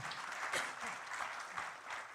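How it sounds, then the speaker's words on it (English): Audience applause at the launch event of an energy transition platform in Indonesia, a brief, moderately loud burst of many hands clapping steadily in a large hall. "Big round of applause, please, for Secretary Yellen"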